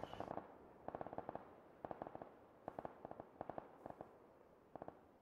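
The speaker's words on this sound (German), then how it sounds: "Da schießt jemand." PUBG video-game gunfire: repeated short bursts of rapid shots in quick clusters, distant and faint, with no talk.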